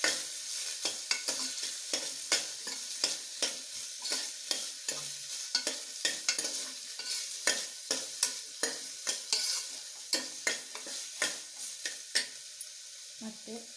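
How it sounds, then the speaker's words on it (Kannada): A large chopped onion frying in a pan for veg pulao, a continuous sizzle broken by a regular series of sharp stirring scrapes and taps, close up, with no talking. "ಇದು ಸ್ವಲ್ಪ ಫ್ರೈ ಆಗಲಿ, ಇದರ ಹಸಿ ವಾಸನೆ ಸ್ವಲ್ಪ ಹೋಗಲಿ, ಅಲ್ಲಿ ತನಕ ಫ್ರೈ ಮಾಡಬೇಕು."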